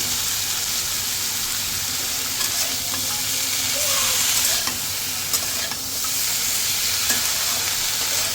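Spiced cauliflower, carrot and other vegetables fry in an iron wok under steady stirring, a loud continuous sizzle with occasional scrapes of the spatula against the metal.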